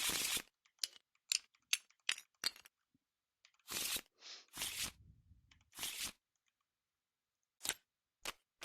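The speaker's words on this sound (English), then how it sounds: "let's give everything one last good shuffle for luck" Cards being shuffled for the Gloomhaven board game, heard as close, sharp bursts of riffling and slapping separated by short pauses, ending in a few isolated taps.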